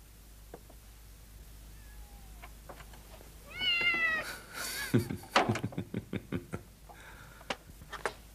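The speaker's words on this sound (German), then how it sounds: "die Katze wollte ich reinlassen" A cat meows outside a door, a few wavering close cries in the middle followed by knocking or tapping sounds, over a quiet background.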